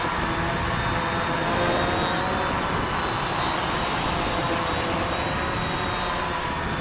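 A UPAir video drone carrying a 360-degree camera hovers and slowly yaws around, its rotors producing a steady, loud broadband whir that holds constant throughout with no talking.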